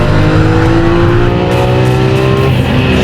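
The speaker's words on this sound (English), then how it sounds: "it definitely makes up for with that 700 horsepower V12 engine fitted behind it" A Lamborghini Aventador's 700-horsepower mid-mounted V12 roars loudly and close under hard acceleration, a continuous rising engine note with strong harmonics held for the whole stretch.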